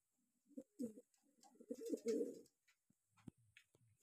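Racer pigeons at a pigeon farm give soft, low throaty coos in a couple of short bursts, close and quiet, followed by a few faint scuffs.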